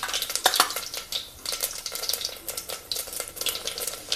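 Whole cumin seeds sizzle and crackle in hot oil for a lentil dal, a steady bright frying hiss with scattered pops and a faint stir, close and moderately loud.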